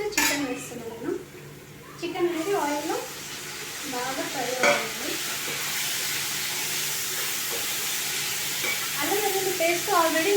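Onions frying in a pan as turmeric is stirred in, a steady sizzle under repeated scraping and clinking of a spoon against the pan, with a voice talking at intervals.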